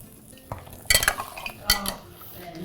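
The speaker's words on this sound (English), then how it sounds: "I'm gently mixing it so each of them can soak the sherbet" Gentle stirring of fried tulumba dough in sherbet syrup: soft wet sloshing with a few sharp clinks of a spoon against a pot, fairly close.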